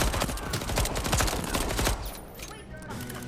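Rapid bursts of video game gunfire from Deathloop crackle densely for about two seconds, then thin out into scattered shots and echoes.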